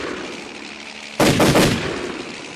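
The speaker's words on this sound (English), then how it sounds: "Bond shot at the helicopter." A gunfire sound effect of someone shooting at a helicopter: a single sudden burst of loud, rough shots lasting about half a second, rising sharply out of a steady background hiss and fading away afterward.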